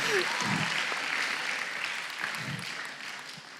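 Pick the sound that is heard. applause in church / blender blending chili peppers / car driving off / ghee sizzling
applause in church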